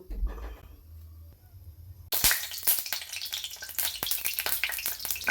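A low hum comes first, then a sudden burst of crackling sizzle as oil in a pan on the stove heats for pickle. Dense popping and spitting continue loudly to the end.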